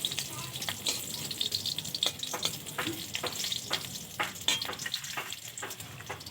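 Radish curry frying with green chillies crackles and sizzles steadily in the pan while being stirred, with repeated scraping strokes of the spoon throughout.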